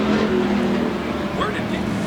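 Bomber class race cars roar around the oval at Central Arizona Speedway, a steady loud engine drone with a commentator talking over it.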